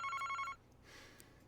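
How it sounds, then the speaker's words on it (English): A telephone rings in the Famicom Detective Club video game, giving a fast trilling electronic ring for about half a second before it cuts off, leaving a quiet background. "Yeah, the phone's ringing."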